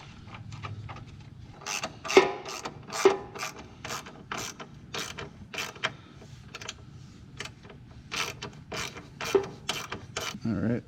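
A ratchet socket wrench tightens running board bolts on a 2019-2021 Ford Ranger, producing close, rapid clicking bursts in repeated strokes with short pauses between them, and no one speaks.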